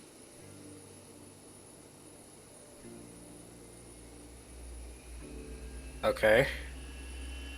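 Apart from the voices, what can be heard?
Boeing 737 engine number 2 starting in X-Plane 11 video game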